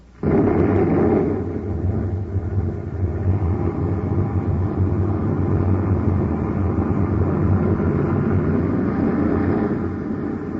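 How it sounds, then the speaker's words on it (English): A rocket blastoff effect in a 1950s Space Patrol radio drama: a sudden loud roar bursts in and then holds as a heavy, rumbling, steady thrust for the rest of the stretch, with no voices over it. "Stand by to fire rockets, Happy."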